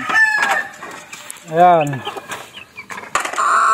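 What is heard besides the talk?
backyard chickens and roosters at feeding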